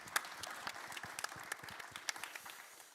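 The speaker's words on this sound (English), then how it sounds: "warm round of applause for Ben" An audience at a seed sector conference about the COP28 Emirates Declaration applauds in a scattered burst of clapping that is fairly faint and thins toward the end.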